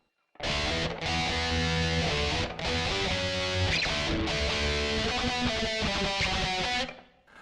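A loud, driving distorted electric guitar riff plays continuously for several seconds, with brief rhythmic breaks, then cuts off at the end.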